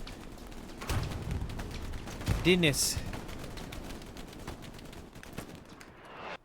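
Gunfire and grenade explosions rattle through a Hell Let Loose match on the Carentan map, with bursts of rifle and machine-gun fire and a loud blast mid-way, mixed with distant battle noise.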